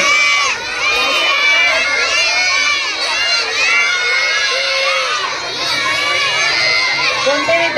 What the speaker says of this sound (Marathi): कोणते विद्यार्थी ओरडतायत रे?